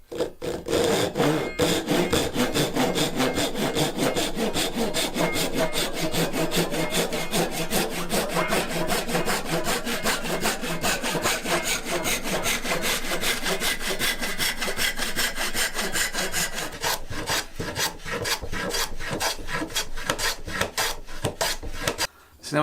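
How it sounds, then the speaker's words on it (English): A hand saw cuts steadily through sapele hardwood, fast rhythmic rasping strokes continuing for over twenty seconds, close and loud, with no talking. "we're going to cut this piece of sapele down a little bit"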